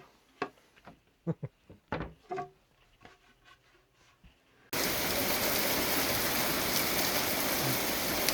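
Hail falling in Oregon. A few scattered knocks and taps give way suddenly to a dense, loud, steady hiss of pellets pounding a surface that continues to the end.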